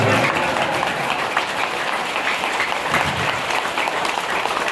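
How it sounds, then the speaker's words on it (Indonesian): An audience at an Indonesian gathering on happiness and fellowship bursts into sustained, dense applause that fills the whole stretch at steady loudness, with a voice faintly underneath. "Tepuk tangan buat semua."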